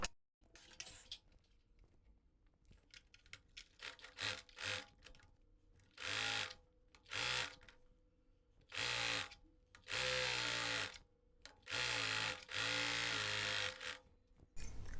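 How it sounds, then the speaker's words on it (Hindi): Sewing machine stitching a slanted seam along the centre fold of kurti fabric, in repeated short bursts that grow longer and louder toward the end, with quiet pauses between runs. "यहाँ पर हल्की सी तिरछी पहले सिलाई लगाएंगे"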